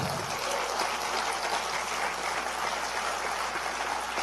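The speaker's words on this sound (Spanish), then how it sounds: "Ahora sí puedes aplaudir." An audience at a church sermon bursts into dense, steady applause that fills the room evenly from start to finish, with no voices heard over it.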